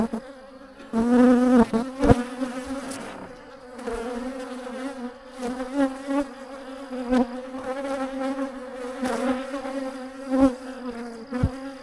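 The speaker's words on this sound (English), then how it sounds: "Real pretty yard to put some bees in." Bees buzzing in an outdoor bee yard, a close, wavering drone of several insects that swells and fades as they fly past, with no talking.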